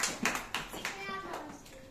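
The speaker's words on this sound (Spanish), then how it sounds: "Muy bien, un aplauso" A short burst of clapping from a small group at a school preschool ceremony, with a voice briefly audible over the claps.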